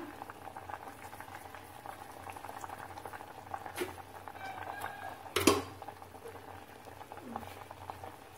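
A pot of eggplant and drumstick tamarind curry bubbles steadily at a low simmer, a continuous soft gurgle, with a brief clatter partway through.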